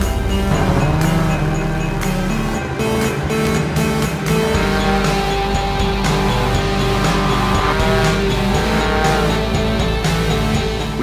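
A snowmobile engine roars loud and close throughout as the sled rides over rough, snowy terrain, with a continuous revving drone and no voices.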